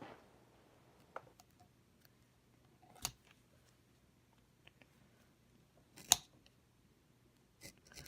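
A number 3 edge beveler shaves the edge of a leather holster in a quiet room, making a few sharp, isolated scraping clicks spaced several seconds apart.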